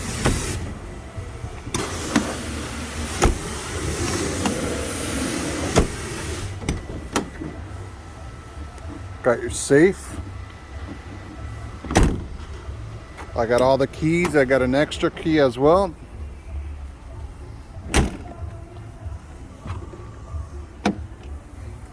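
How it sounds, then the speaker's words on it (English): Power windows whir up and down and power door locks clunk on a 2012 Ford F550 bucket truck with a gas Triton 6.8L engine, several short motor runs and sharp clicks inside the cab while someone talks throughout. "Power windows, power locks."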